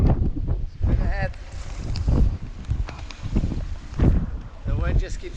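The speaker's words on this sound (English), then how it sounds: "The wind just keeps blowing it." Heavy wind gusts across a boat anchorage in strong weather, a steady roar that swells and fades in waves, with people talking over it.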